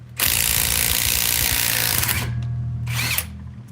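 An impact power tool loosens lug nuts on a 2011 Ford Mustang wheel in a garage, a loud continuous whirring rattle for about two seconds, then a short second burst after a pause.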